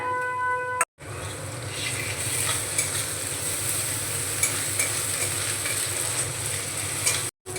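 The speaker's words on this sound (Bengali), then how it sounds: "আদা বাটা দিয়ে একটু নাড়াচাড়া করে নিয়েছি" Ginger paste sizzles and fries in a pan while a spoon stirs it for egg biryani, a steady, close, continuous sizzle with scraping, no voices.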